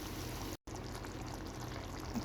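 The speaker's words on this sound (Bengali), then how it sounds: "মাছটা ভালো করে কষানোর জন্য আবার অ্যাড করলাম কিছুটা পরিমাণ পানি।" Water poured into a pan of pangas fish being cooked down, a steady close splashing pour with one brief break.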